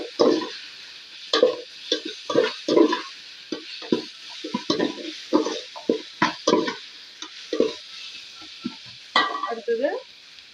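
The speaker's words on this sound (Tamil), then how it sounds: "புதினா சேர்த்துட்டு நல்லா வதக்கிக்கலாம்." Mint leaves sautéed for chicken biryani, with repeated stirring scrapes and soft bursts of sizzle in a pan, close and moderate, under a faint steady hiss.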